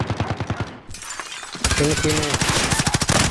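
Rapid bursts of automatic gunfire in the video game Call of Duty Warzone, loud and close, broken by a brief pause, with someone speaking Spanish over the shooting.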